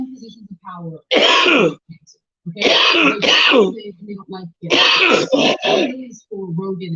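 A person with bronchitis coughs and clears their throat in harsh, raspy bursts, repeated several times close up with short pauses between.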